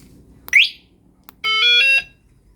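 An electric motorbike's anti-theft alarm goes off loudly and close by, with a quick rising chirp and then a half-second burst of shrill, steady electronic tone.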